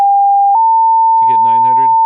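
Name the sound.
800 hertz sine test tone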